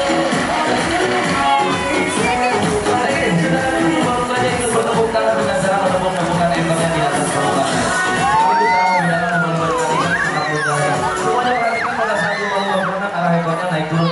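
A crowd of spectators at a dolphin show in Ocean Dream Samudera Ancol cheers, whoops and shouts, children's voices rising above the steady roar, loud and continuous throughout.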